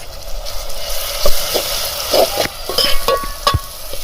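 A spoon scrapes and stirs small shevdya river fish with tomato in a pan over the fire, a steady low sizzle broken by repeated close knocks and scrapes.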